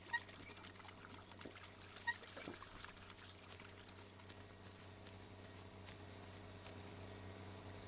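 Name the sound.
pouring water, from the video game My Summer Car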